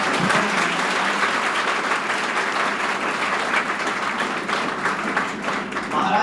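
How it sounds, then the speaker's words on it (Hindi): A hall full of people at a career academy in Sikar welcomes a visiting saint with sustained, loud applause that keeps a steady, thick texture throughout, with a few voices faintly mixed in. "एक बार जोरदार तालियों के साथ उनका स्वागत करें"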